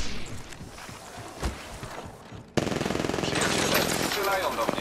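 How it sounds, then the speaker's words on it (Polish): Gunfire in Apex Legends starts halfway through as a loud, rapid automatic burst that keeps going to the end, after quieter footsteps and ambient game sound. "Przyjaciele, strzelają do mnie"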